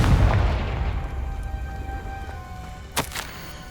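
A Confringo spell fired in Hogwarts Legacy sets off a loud, booming blast that slowly decays into a rumbling fade, followed by a short sharp crack near the end.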